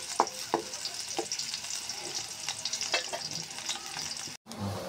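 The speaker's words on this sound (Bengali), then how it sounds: "পেঁয়াজটা আমি একটু ভেজে নিই।" Chopped onions fry in oil in a wok, giving a continuous quiet sizzle with scattered crackles and occasional stirring taps, fairly close and faint.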